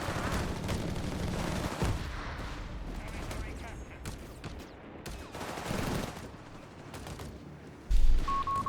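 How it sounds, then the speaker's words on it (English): Artillery fire and gunfire in the WWII strategy game Company of Heroes 3, a dense barrage of shots and blasts running throughout under commentary, with a loud boom near the end. "We do get a bit of artillery watch out here"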